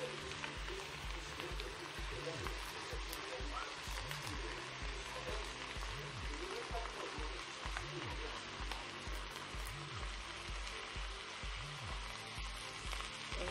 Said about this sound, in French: Là, on va rajouter nos oignons.